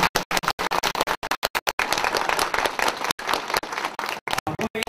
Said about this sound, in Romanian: Cu aplauze!